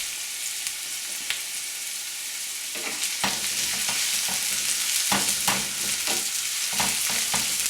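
Pork hits a pan of softened onion and garlic for ginataang langka, setting off a bright, dense sizzle that swells and stays loud, with scattered spoon scrapes and clicks from stirring up close and no talking.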